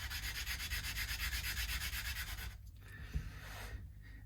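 The back of a Harley Benton Fusion Pro guitar nut is rubbed smooth on 240-grit sandpaper in rapid, rhythmic back-and-forth strokes, close and soft, which then break into a few slower scrapes and a light knock.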